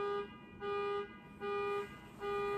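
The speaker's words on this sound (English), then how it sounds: "Stupid people honking horns." Car horns honking outside, four long steady toots in a regular on-off rhythm, moderately loud and alone with no talking.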